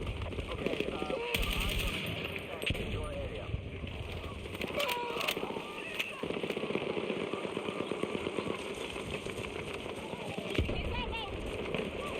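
Sustained bursts of automatic gunfire rattle through a Battlefield 6 match alongside scattered single shots and distant booms, dense and continuous, while someone talks over the shooting.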